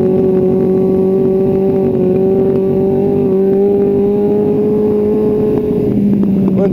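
A motorcycle engine drones loud and close at a steady pitch, rising slightly as it is revved for a wheelie attempt, with wind noise over it and a small dip in pitch near the end.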